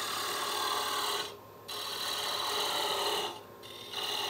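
A turning tool cuts into wood spinning on a lathe while a coffee scoop is being made, a close, rasping scrape in two long passes with a short pause between them.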